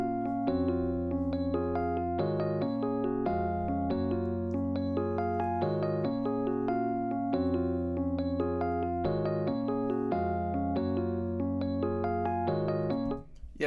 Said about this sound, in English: kind of like a suitcase piano